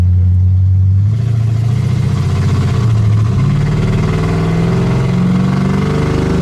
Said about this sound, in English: the mufflers are a little loud for some people